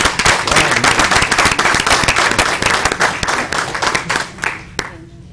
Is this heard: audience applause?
yes